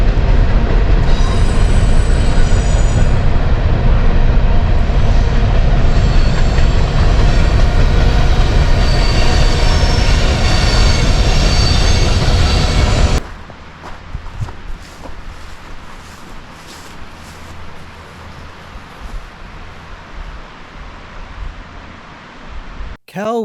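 A train rumbles loudly past at close range with a heavy rolling roar and high wheel squeal for about thirteen seconds, then cuts to a quieter outdoor scene with faint noise and a voice.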